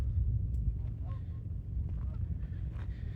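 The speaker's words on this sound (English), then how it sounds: "I hear some Canadian geese over there." Canada geese honk in the distance near Berryessa Lake, a few scattered faint calls over low outdoor rumble and wind.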